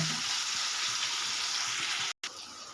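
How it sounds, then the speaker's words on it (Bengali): Onion, tomato and green chili fry in a pan for a fish curry, a steady close sizzle running throughout with one brief drop-out near the end. "দিয়েছি টমেটো আর কাঁচা লঙ্কা দিয়ে এটা একটু ভাজা ভাজা করে নেব।"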